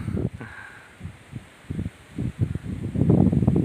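Strong gusts of wind by a reservoir shore buffet the microphone in uneven low rumbling bursts. They build to a heavier, sustained blast at the end.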